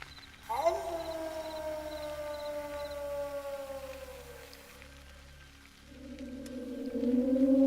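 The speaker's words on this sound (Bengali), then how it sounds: "আর দূরে কোথাও শিয়ালের ডাক ভেসে আসছে।" A cartoon jackal howls far off on a foggy night: a long, wavering, sliding howl fades away, then a second howl rises at the end, heard alone without speech.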